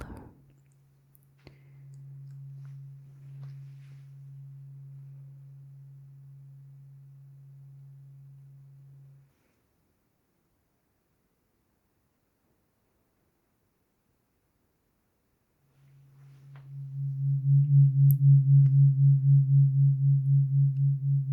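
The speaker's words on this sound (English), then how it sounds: "This particular sound you can hear is called a binaural beat." A steady low hum of a binaural beat tone, fading out into silence, then returning louder with a slow pulsing wobble.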